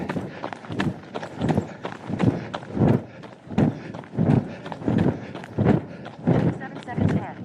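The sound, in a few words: footsteps of a person walking briskly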